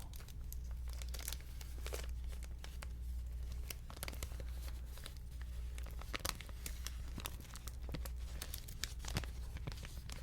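Close, quiet crinkling of a wrapper, a steady crackly rustle with sharper crisp snaps scattered throughout, intimate and soft.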